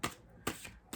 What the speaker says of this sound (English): I had started doing this shuffling